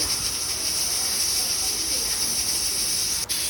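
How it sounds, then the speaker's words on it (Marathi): Steady hiss of steam escaping from a pressure cooker cooking mutton paya, loud and continuous throughout with a brief dip near the end, no voices. "आता कुकरच्या मी इथं सात शिट्ट्या घेतलेल्या आहे"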